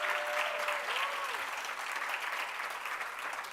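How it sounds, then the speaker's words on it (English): Audience applause fills the hall at a college awards ceremony for graduating students, a sustained wash of many hands clapping at steady volume, with a brief sustained tone briefly sounding over it near the start. "Please give them a round of applause."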